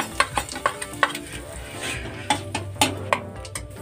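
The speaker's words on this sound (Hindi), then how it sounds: "गैस पे मैंने कढ़ाई चढ़ा दी है। मैंने इसमें 1 बड़ा चम्मच ऑयल डाला था, गरम हो गया ऑयल। अब इसमें जीरा डाल देते हैं" Cumin and turmeric sizzle in a tablespoon of hot oil in a kadai on a gas stove, a faint frying hiss broken by sharp, irregular clinks of a spoon stirring against the metal.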